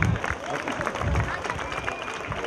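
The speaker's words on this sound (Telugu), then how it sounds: "ఒకసారి గట్టిగా క్లాప్స్ కొడదామా?" An audience at a school annual day claps loudly and steadily in a dense burst of applause, with a few voices mixed in.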